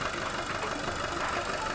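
A 2016 Hyundai Sonata engine with a worn connecting rod or main bearing, giving a steady, close, continuous mechanical knock and clatter at idle with no pause, recorded close to the engine bay.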